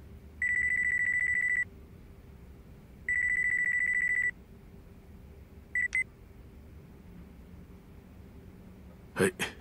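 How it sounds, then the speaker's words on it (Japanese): A mobile phone rings in the video game Yakuza 5, giving two long electronic ring bursts and a brief third chirp, clear and steady over a quiet background before a short clatter at the end. "俺の電話だ。"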